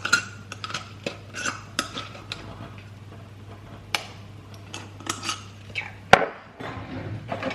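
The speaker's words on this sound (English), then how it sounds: "And then you're just gonna whisk this." A mixture is whisked by hand in a bowl, a run of quick light taps and clicks against the sides, close and quiet, ending with a sharper knock.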